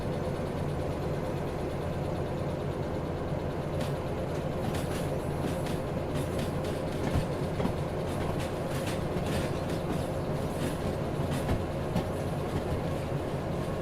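A train rolls steadily along the rails in Derail Valley, a continuous rumbling drone with faint rhythmic clicks and clatter from the wheels, heard alone without any voices.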